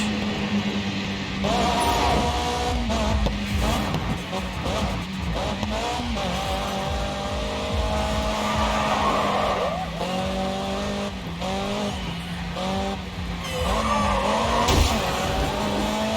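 Car in the Grid 2 racing game with its engine revving and rising and falling through gears, tires repeatedly squealing and skidding through corners, loud and close, with someone talking over it.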